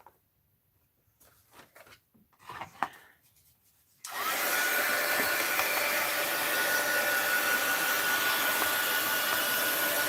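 Heat gun drying paint on a mixed-media art journal page: a few soft handling knocks, then a loud, steady blowing whir that switches on and runs without a break to the end.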